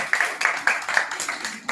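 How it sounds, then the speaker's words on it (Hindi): Applause from an audience at a prize distribution for children on Independence Day, a short burst of scattered hand claps heard alone. "जोरदार तालियां"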